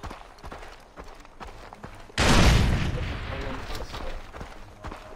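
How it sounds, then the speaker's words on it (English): A grenade goes off in the shooter game Far Cry 3: a sudden heavy blast about two seconds in, with a roaring rumble that slowly fades, after scattered gunfire-like pops and background game noise. "Throwing grenade!"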